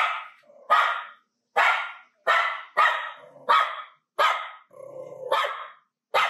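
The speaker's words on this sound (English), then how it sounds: "Is this dog gonna bite it?" A dog barks repeatedly at close range, about nine sharp, evenly spaced barks with a short growl between them, on a residential property with no talk underneath.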